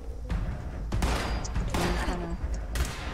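Laser pistol shots in Fallout 76 come in a few distinct bursts of sharp zapping fire over game background noise, spaced about a second apart and fairly loud.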